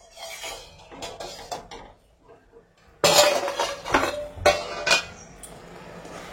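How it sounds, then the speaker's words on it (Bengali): Metal lid lifted off a cooking pan of simmering kulekhara greens and potato, with a few clinks and scrapes, a quiet pause, then a louder burst of clattering metal and rubbing handling sounds close by. "ঢাকনাটা খুলে দেখবো কতটা সিদ্ধ হয়েছে।"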